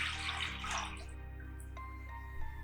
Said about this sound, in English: So I have 4 cups of water. We're adding that to our pan.